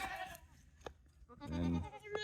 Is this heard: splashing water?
no